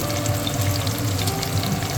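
Chopped onions from about five bulbs fry in hot oil with bay leaves, giving a dense, continuous close sizzle with a bubbling low rumble beneath.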